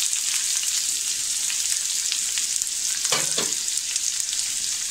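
A medium-sized onion sautéing in a little oil over a low gas flame, giving a steady, close sizzle throughout with a brief stirring scrape near the end.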